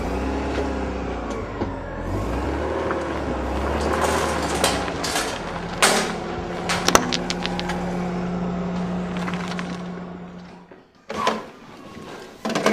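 A car engine runs while driving, giving a continuous low rumble and a steady hum, with scattered knocks and clicks. It fades briefly near the end, then swells again.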